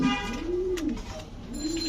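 German pist fancy pigeons give two clear, rising-and-falling coos close by, repeated in a slow rhythm over a steady low background hum.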